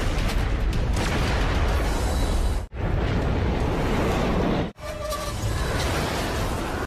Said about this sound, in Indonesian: bisa menghasilkan ledakan yang super kuat